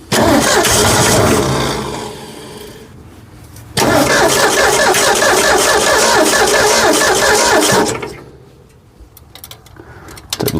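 A Ford F100 truck engine with a freshly replaced carburetor cranks and catches, running loud and close in two long stretches with a brief dip between, then dropping away toward quiet before another start.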